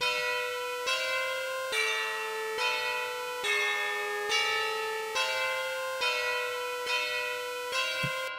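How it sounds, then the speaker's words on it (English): Synthesized bell tones in an electronic deathstep track ring in a slow, regular sequence, each strike sustaining and overlapping the next in a haunting, resonant melody. "So that melody sounds pretty eerie, I would say, especially with the bells."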